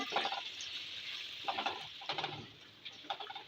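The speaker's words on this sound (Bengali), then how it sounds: "রসুন কুচি এক টেবিল চামচ দিয়ে দিচ্ছি আদা কুচি এক টেবিল চামচ একটু ভেজে নেব" Chopped garlic and ginger fry in a pan, with a steady hiss of oil broken by a few louder scraping bursts of stirring, close and fairly quiet, with no talking.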